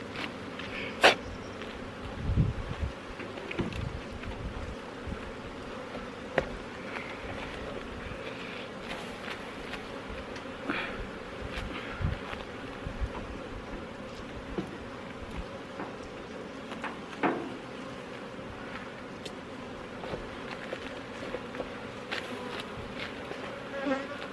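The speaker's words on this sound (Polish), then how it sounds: "teraz te pszczoły co koło mnie latają" Honeybees buzz and fly around a beekeeper working at an open hive in a spring apiary, a steady close droning hum with individual bees zipping past the microphone throughout.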